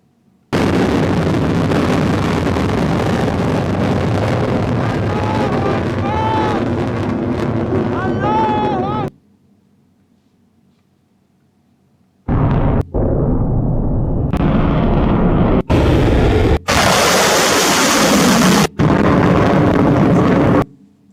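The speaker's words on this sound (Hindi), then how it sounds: "चलिए थोड़ा वीडियो देख लेते हैं, मिसाइल विसाइल देख लेते हैं" Iranian missile launch footage: a loud, sustained roaring blast lasting several seconds, then a brief lull followed by further bursts of roaring and popping with wind-buffeted noise.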